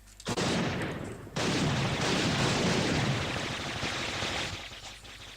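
Rapid, loud gunfire from an online shooter game, a dense burst of shots that drops out briefly after the first second, then resumes as continuous heavy firing that fades slightly toward the end.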